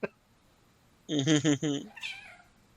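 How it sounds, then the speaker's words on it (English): A cat gives a short run of three or four close, tonal meows in quick succession, followed by a softer trailing sound, with voices nearby. "That was a pretty cat."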